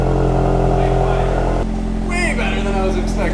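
VW Mk8 GTI engine fitted with an iE downpipe and resonator, a loud steady idle drone heard up close while people talk over it.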